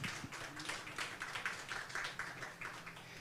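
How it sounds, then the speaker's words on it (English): An audience at Writers Mingle 2024, a literary gathering in Kigali, Rwanda, applauds in quiet, rippling bursts of clapping, faint and somewhat distant, with no talk over it. "Give yourself a big round of applause"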